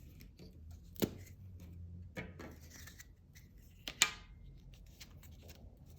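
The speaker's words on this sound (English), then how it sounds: "then I'll be able to cut it out at the same time" Scissors snip out pieces for chunky sparkle carrot earrings, with a few separate crisp cuts spaced about a second apart over soft, faint paper rustling.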